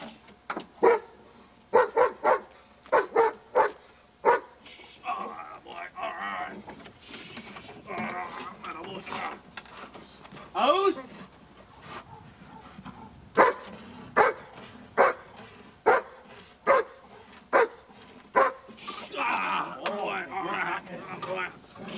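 A police K9 dog at a training seminar lets out a series of loud, sharp barks in irregular bursts, with people talking between and over them in a quiet room.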